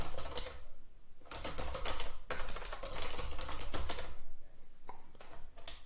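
Bursts of rapid computer keyboard typing during a lecture, clusters of crisp key clicks separated by short pauses, close and fairly loud, with no talking.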